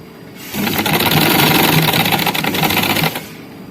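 A sewing machine runs in one steady burst of about two and a half seconds, stitching along the gathered seam of an umbrella frock with a rapid, even mechanical chatter.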